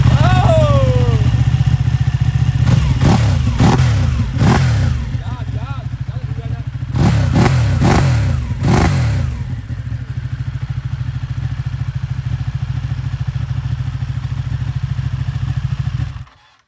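A Ducati Panigale 1199S sport motorcycle with an aftermarket exhaust idles loudly with a deep, rumbling exhaust, punctuated by several sharp throttle blips and revs, heard up close.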